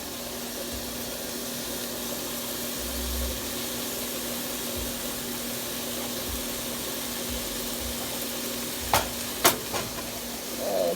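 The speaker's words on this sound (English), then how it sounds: "give this a little stir. Then I'm going to add the first bunch of mushrooms." Mushrooms frying in a pan while being stirred for vegan spaghetti, a continuous soft sizzle with a few scraping stir strokes and sharp utensil clicks near the end.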